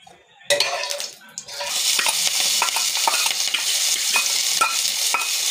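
Boiled Maggi noodles frying in a little oil in a wok, with a loud, continuous sizzle and repeated close clinks and scrapes of a spatula stirring after a short quiet start.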